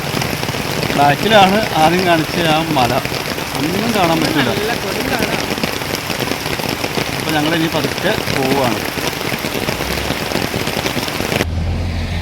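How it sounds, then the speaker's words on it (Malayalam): Heavy rain pours steadily in a forest area, a dense loud hiss running throughout as people talk over it, with the sound cutting off abruptly near the end. "മഴ എന്ന് പറഞ്ഞാൽ അതുപോലെ മഴ."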